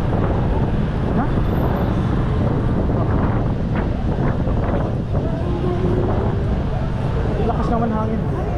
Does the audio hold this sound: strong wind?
yes